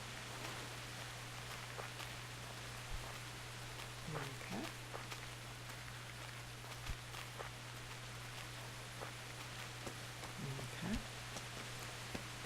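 Steady rain falls in the medieval open-world game Kingdom Come Deliverance, a soft continuous hiss with faint scattered drops and rustles, while a voice briefly speaks twice over it.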